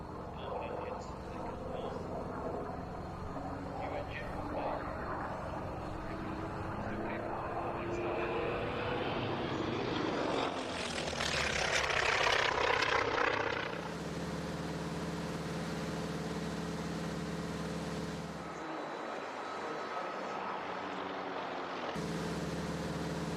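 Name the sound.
T-28 Trojan aircraft engine, heard from inside the plane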